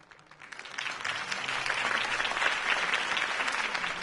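A crowd applauds a campaign speech at a rally in the Batman Telltale Series video game, the clapping swelling quickly and then holding as a steady, dense roar.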